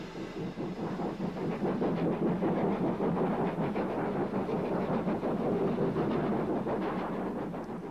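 A steam train climbing with three banking engines near Bromsgrove gives a steady, dense rumble of working locomotives and rolling wagons, holding loud and continuous throughout with a rhythmic chuffing texture.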